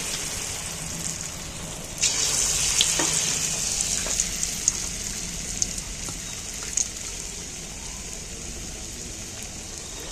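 Steady crackling sizzle of batter frying in hot oil, with occasional louder pops and stirring clinks, no talking.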